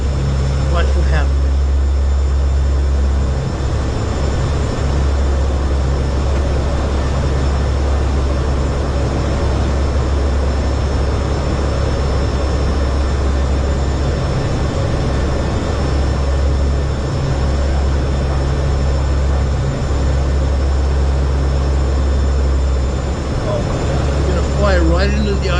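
An Air Force turboprop plane flying into a hurricane's eye, heard as a steady, loud, continuous engine drone with deep low rumble throughout, with faint voices over it.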